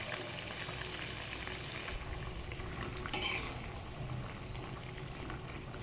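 A pot of runner bean and potato curry simmers with a faint, even bubbling hiss, broken once by a brief soft clink partway through. Quiet throughout, with no talking.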